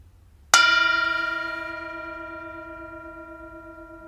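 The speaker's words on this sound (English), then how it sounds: "enjoy the sound of this bell." A single bell, struck during a mindful Bible study gathering, rings out once with a bright attack and a long, slowly fading ring, heard alone in a quiet room.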